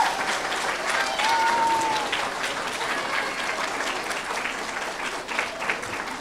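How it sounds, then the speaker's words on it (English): At a fourth-grade school awards ceremony, an audience claps steadily and fairly loudly, with a short whistle near the start; the applause continues evenly without fading. "So give them a round of applause too."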